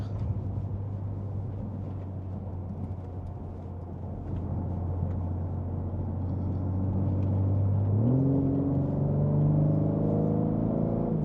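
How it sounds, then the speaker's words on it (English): A 2025 BMW M3 Competition xDrive engine hums low and steady on a ramp, then rises in pitch as the car accelerates, growing louder toward the end. "we'll get a little acceleration here on the ramp"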